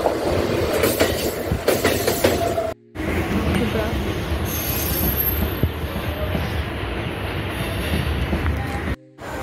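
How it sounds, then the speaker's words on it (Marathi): An Ahmedabad-Mumbai Central Tejas Express passes close by on a track next to a stopped Mumbai suburban local, giving loud continuous rumbling and clattering wheels with squealing, and people talking nearby. "समोरून येते ट्रेन"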